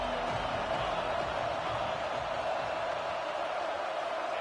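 A football stadium crowd roars for the defense during a red zone stand, a dense, steady wall of far-off noise that holds evenly throughout without a break.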